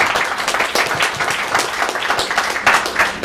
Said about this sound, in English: A little round of applause here for them.